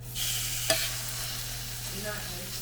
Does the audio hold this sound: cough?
no